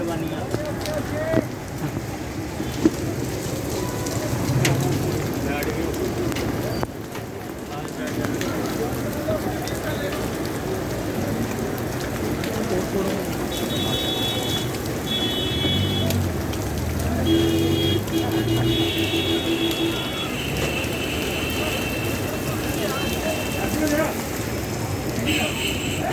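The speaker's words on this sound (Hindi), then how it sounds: "ओले पड़ चुके हैं और बारिश भी साथ तेज हो गई।" Hail and heavy rain pour down steadily during a protest, a dense continuous hiss with no pauses, loud and close, with voices talking now and then beneath it.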